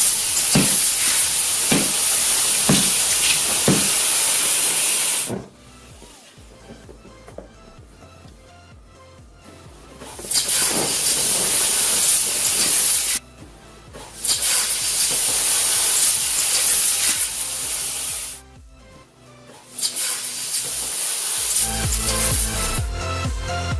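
A glowing 1000-degree hot knife cutting through stacks of chocolate and melting it: loud, harsh hissing sizzle in long bursts broken by sudden quieter gaps.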